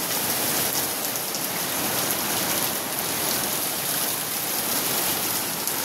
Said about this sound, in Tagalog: Ang lalaki ng ulan.